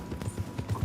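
Horse hooves clip-clop in Red Dead Redemption 2, a short run of close, even hoofbeats on the ground lasting under a second, with no talk.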